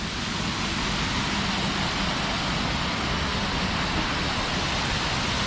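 A full waterfall swollen after days of heavy rain roars as a dense, steady broadband rush, loud and unbroken throughout with no voices.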